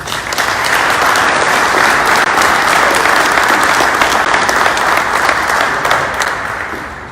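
An audience at a fire sprinkler day event bursts into loud, sustained applause that holds steady for several seconds and tapers slightly at the end, with no talk over it.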